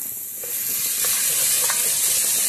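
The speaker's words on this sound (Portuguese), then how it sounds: "Vamos fritar e já volto." Grated garlic and chopped onion frying in hot fat, a steady loud sizzle and hiss that swells slightly, with a few faint stirring clinks, no voices.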